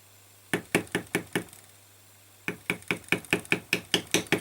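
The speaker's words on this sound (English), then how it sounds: "I hope you can hear that sort of, the drumming" Metal stamp tapped repeatedly onto leather while tooling an oak leaf pattern on a sheath, producing crisp, close knocks in quick rhythmic bursts, a short run of five, a pause, then a longer faster run.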